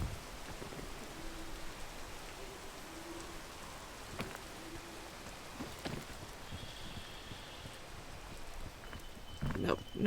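Steady, faint rain falls in the climbing game PEAK, a soft continuous patter with a few scattered clicks and a brief louder thump at the end.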